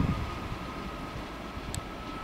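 Class 365 electric multiple unit pulling out of Hitchin station, a steady low rumble of wheels and traction with a faint hum and one brief high squeal, heard fairly close and without talk.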